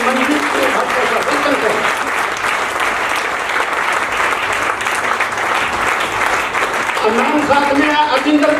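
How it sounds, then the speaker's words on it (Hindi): An audience at a success celebration gives loud, sustained applause for a couple, with dense clapping filling the whole stretch and a voice briefly speaking over it near the end. "एक बार जोरदार तालियां दीजिए मनजीत सिंह भाटिया साहब"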